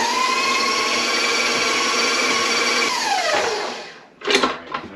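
An electric hand mixer beats gingerbread cookie dough with egg and vanilla on medium speed, a steady loud whir that drops in pitch near the end before two short bursts.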